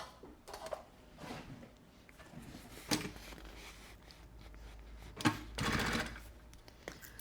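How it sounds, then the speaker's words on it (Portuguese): A sewing machine stitching a seam on a puffer backpack, heard in a few quiet bursts of rapid mechanical whirring separated by pauses and small handling clicks, close by, with no talk. "E eu vou costurar para dentro dessa costura"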